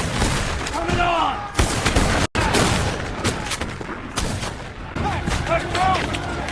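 Musket volleys from a Civil War battle reenactment crack out in repeated sharp bursts, several close loud reports with echoing tails, while shouted commands and voices carry underneath.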